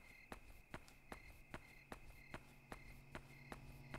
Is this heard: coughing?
no